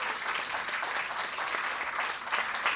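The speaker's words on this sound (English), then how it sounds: "a huge round of applause" An audience at an inaugural ceremony for the Dalai Lama's 90th birth anniversary applauds a speaker, a dense, steady wash of many hands clapping at moderate loudness throughout.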